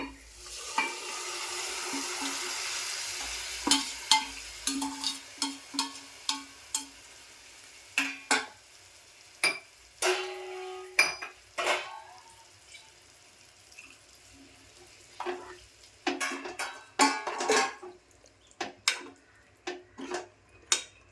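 Taro leaves being stirred in a hot pan, with a soft sizzle beneath repeated scraping and clattering of a spoon against the pan, irregular and close.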